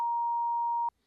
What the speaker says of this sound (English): then I'm gonna get that timer going